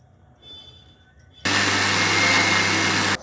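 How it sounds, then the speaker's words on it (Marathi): A kitchen mixer grinder whirs loudly for under two seconds while grinding garlic and coriander, a sudden steady motor roar that starts and stops abruptly after quiet room tone. "लसूण कोथिंबीर हे मी मिक्सरला वाटून घेणार आहे"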